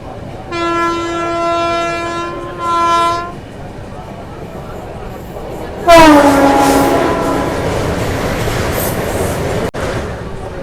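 The Solapur Hassan Express sounds two loud, sustained horn blasts near Shahabad railway station, then roars past close by with a heavy rush of wheels and carriages.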